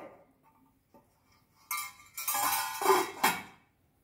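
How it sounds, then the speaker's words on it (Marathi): A metal lid clatters and clanks onto a pot of cooking vegetables, a few sharp metallic knocks close by after a quiet moment. "आता मी पुन्हा झाकण ठेवते."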